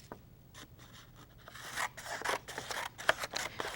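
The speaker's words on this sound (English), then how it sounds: "Now I'm going to take my scissors and cut all my strips." Scissors cut apart strips of painted yellow and blue paper, a series of close, quiet crisp snips and rustles that grow busier and louder over a few seconds.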